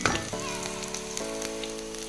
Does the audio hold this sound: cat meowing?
no